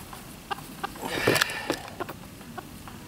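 A mixed-breed hen, a large white-egg layer, clucks softly at close range on a homestead, with a handful of brief scattered clucks and one louder burst in the middle against quiet background.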